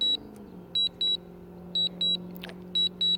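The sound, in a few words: DJI Mavic drone beeping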